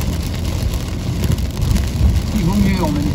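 Rain pours down in a video game set around a cell in an undersea base, a steady broadband hiss of downpour with a low rumbling bed, while voices talk over it.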